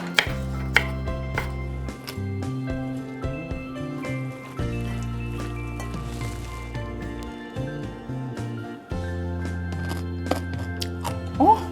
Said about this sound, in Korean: 먹기 좋은 크기로 썰어보도록 하겠습니다.